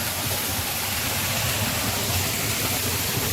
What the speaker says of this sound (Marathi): धबधबा पण वाढला आहे